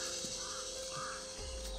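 A crow caws a few times, faint and somewhat distant, against a steady background hum.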